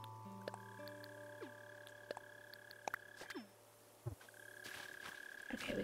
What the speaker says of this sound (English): Is that a bell cricket?